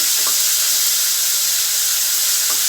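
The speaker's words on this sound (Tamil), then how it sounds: "கொஞ்சம் பச்சை வாசனை போகிற வரையும் வதக்கிக்கிடுவோம்" Onions with ginger garlic paste sizzle and hiss steadily in a pan while being sautéed for a bottle gourd gravy, a close, continuous frying sound with no talking.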